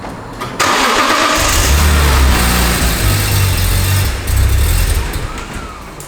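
Barn-find BMW E46 M3 being cranked on starting fluid: the starter whirs loudly and steadily for several seconds without the engine catching, pausing briefly before cranking resumes.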